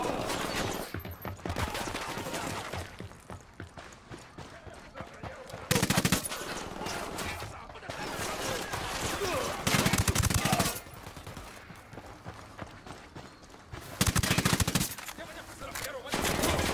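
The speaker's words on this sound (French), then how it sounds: "J'ouvre le feu." Video game gunfire in Ghost Recon comes as dense, continuous machine-gun bursts and rapid shots. Several louder volleys stand out over a constant noisy battle background.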